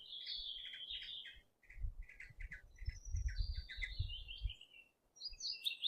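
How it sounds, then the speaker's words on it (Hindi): A nightingale (bulbul) sings clear, quick chirps and warbled phrases over a faint low rumble, with short pauses between bursts. "नाइटिंगेल को हिंदी में बुलबुल कहते हैं"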